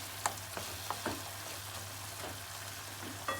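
Garlic is stirred in a frying pan, giving a steady soft sizzle with a few light scrapes and taps from the utensil, close and moderately quiet, with no talking.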